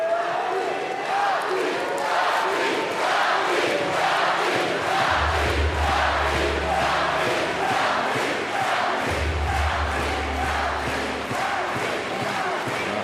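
A loud arena crowd roars and chants at a weightlifting competition as a French lifter gets under 209 kilograms, with rhythmic clapping and a booming announcer's voice over the din.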